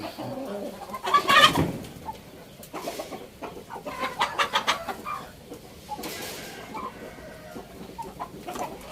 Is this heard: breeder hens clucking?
yes